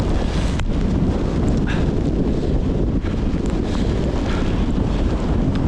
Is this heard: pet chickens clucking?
no